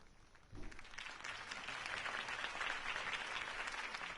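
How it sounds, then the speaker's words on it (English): A crowd bursts into applause after a brief quiet moment, the clapping holding steady and fairly distant until the end. "If only Mr. Wayne, my campaign's largest backer, could have heard that applause"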